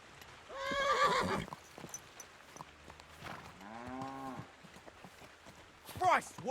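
A horse gives a loud, shaky whinny, followed by a second long call and a brief third neigh near the end, with sparse background noise between them.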